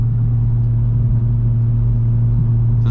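A Toyota Supra cruises on a highway at night, its engine a steady, deep rumbling drone heard from inside the cabin, loud and constant with no voices.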